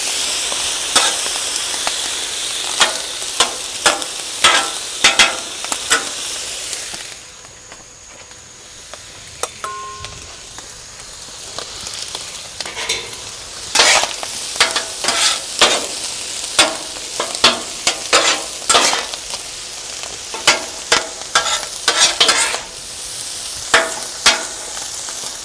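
Rice stir-fried on a hibachi griddle for chicken fried rice, steady sizzling broken by rapid sharp metal spatula clacks and scrapes, with a brief quieter stretch before the tapping picks up again.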